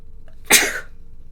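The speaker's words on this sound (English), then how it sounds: "I feel a sneeze coming on." A single sharp sneeze bursts out close to the microphone and fades quickly, with a quiet background before and after.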